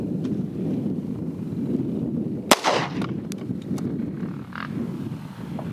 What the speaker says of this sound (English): We're going to be shooting ball ammo out of this.